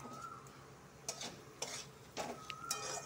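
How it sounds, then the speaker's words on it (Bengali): Spices frying in a pan for a mushroom curry, a soft steady sizzle broken by several scraping stirs and light utensil clinks against the pan, close and fairly quiet. "মশলাটা ভাজা ভাজা হয়ে গেছে"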